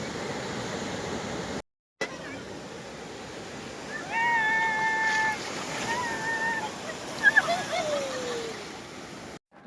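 Sea waves at Malpe beach: a constant wash of surf noise rolls on at moderate loudness, with brief thin tonal calls or voices rising over it in the middle.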